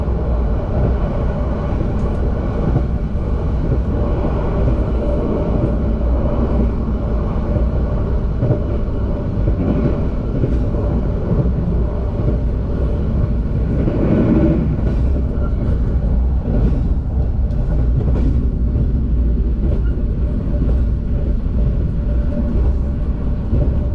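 The KA Gunung Jati passenger train runs along the north Java coast line, a loud, steady rumble of wheels and carriage noise heard from onboard, with faint rattles and occasional clacks.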